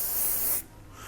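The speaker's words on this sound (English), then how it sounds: "I'm going to use my hairspray and just go through." Eleven Australia Give Me Hold flexible hairspray hisses from a can in one close, steady, loud burst onto hair, then cuts off abruptly, leaving quiet room tone.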